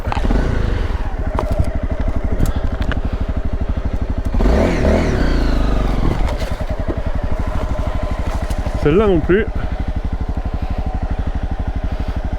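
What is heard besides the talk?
motorcycle riding off-road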